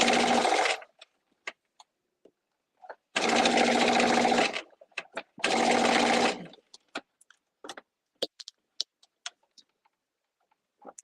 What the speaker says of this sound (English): always back stitch to reinforce